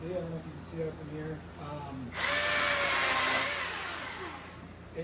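A Milwaukee battery-powered chainsaw starts up partway through, giving a steady, fairly quiet high-pitched whine that holds for a few seconds and then eases slightly, following quiet background sounds at the start.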